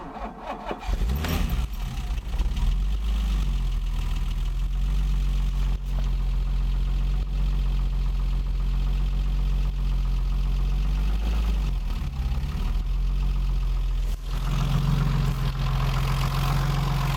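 A BMW 325i E30 with the M20 engine idles steadily after being restarted following a valve clearance adjustment, giving a loud, continuous low rumble close by that holds throughout without any talk.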